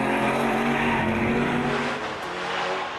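A racing car's V8 engine roars steadily at close range during a BMW club circuit race, a loud sustained engine note that eases slightly toward the end.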